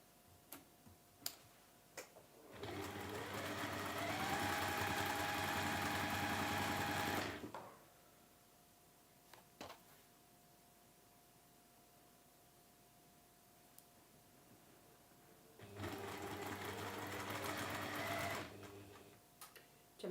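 A sewing machine stitches quilt fabric pieces together for a schoolhouse tile quilt, running in two steady bursts of several seconds each, close and clear, with quiet gaps and small clicks between them.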